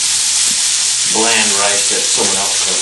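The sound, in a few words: rice reheating in a frying pan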